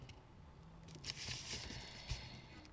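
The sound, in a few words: heavy rain pouring down outside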